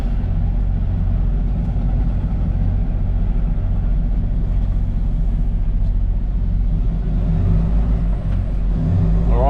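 A truck tractor pulling a bog hog trailer moves out slowly, its engine a steady low rumble that stays loud and close throughout, with no talk over it.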